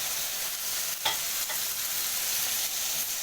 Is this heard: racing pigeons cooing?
no